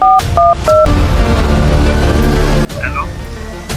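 Three quick telephone keypad tones beep in succession, followed by a steady buzzing tone that cuts off abruptly, then faint electronic chirps.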